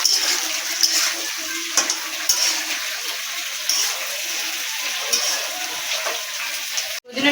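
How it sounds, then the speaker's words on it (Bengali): Drumstick pieces fry with potatoes in hot oil for a Bengali fish curry, giving a steady close sizzle broken by brief stirring scrapes, with a sharp knock near the end and no talk. "দেখো সজনে ডাঁটাটা এবার ভালো করে একটু আলুটার সঙ্গে একটু ভেজে ভেজে নেব"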